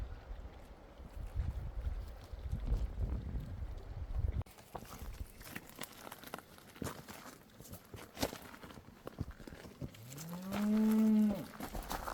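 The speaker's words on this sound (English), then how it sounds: "we got a herd of cows trying to come through here." A herd of cattle on a trail near a mountain campground, with scuffling hooves and rustling, then a single loud, drawn-out moo close by near the end.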